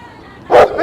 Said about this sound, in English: take it easy, doggy.